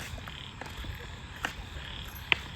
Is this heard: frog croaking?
yes